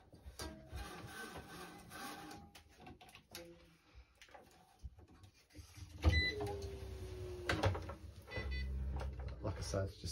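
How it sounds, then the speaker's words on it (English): A constant-pull electric stringing machine tensions a string on a Head Extreme Pro racquetball racquet, giving a mechanical whir and grinding pull that swells toward the end, with someone talking over it. "This is a constant pull electric machine, so it will keep pulling that string"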